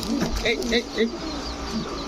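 Racing and Giribaz pigeons cooing, several soft rolling coos in quick succession up close, followed by quieter calls, with someone talking over them.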